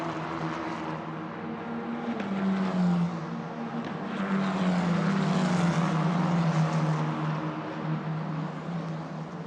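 Euro 4 single-seater race cars braking and downshifting into turn 1 at Circuit de Barcelona-Catalunya. A sustained engine drone rises and falls in pitch, heard steadily from a middle distance with no voices.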